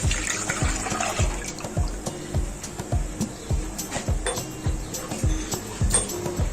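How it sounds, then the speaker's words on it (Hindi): Water poured into a pan holding a litre of milk while making falooda: light splashing and trickling with small clinks and knocks, close and fairly quiet, with faint background voices. "थोड़ा सा पानी डालेंगे क्योंकि इस बॉल में थोड़ा सा दूध लगा रह गया था, उसको हिलाकर इसमें शामिल करने के लिए"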